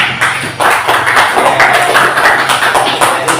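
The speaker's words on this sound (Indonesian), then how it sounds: "Tepuk tangan untuk kita." A group of people in a classroom clapping their hands together, a steady, dense applause lasting several seconds at close range.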